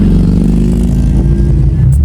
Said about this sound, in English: I just wanted to talk about the noise of the Perrin dual axle back exhaust on the VBWRX.